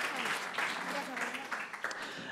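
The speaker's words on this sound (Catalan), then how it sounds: "aquest aplaudiment solidari dels vostres companys" Brief, fairly quiet applause from fellow contestants on a Catalan TV quiz show, a steady patter of clapping lasting a couple of seconds with voices mixed in.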